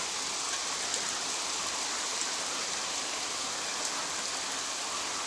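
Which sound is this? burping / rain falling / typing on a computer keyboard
rain falling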